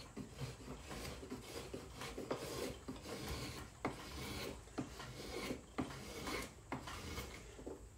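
A wooden spokeshave cuts against the grain of a wooden workpiece, making faint, rasping scraping strokes in an irregular rhythm, each pass a short rough rub with small knocks between them, close and quiet with no talk.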